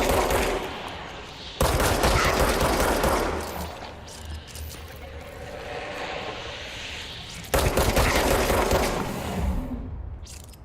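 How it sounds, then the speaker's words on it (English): Bursts of rapid automatic gunfire in the video game Control, two loud sustained volleys separated by a quieter stretch of rumbling ambience. "I can shoot stuff to unlock it."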